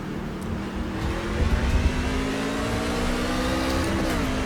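NASCAR trucks in an iRacing esports race at Phoenix accelerate together on a restart, a dense, sustained engine roar with rising pitch and no voices.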